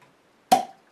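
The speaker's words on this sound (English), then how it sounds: "And a nice little pop on that." A single short, crisp pop of a cap coming off a bottle of Ommegang Game of Thrones Take the Black stout, close and clear against near silence, with a brief fizzy tail.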